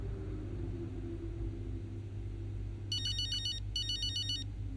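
A phone rings in the racing game F1 Braking Point: two short bursts of an electronic ringtone over a steady low engine-like rumble, clear and close, with no talking.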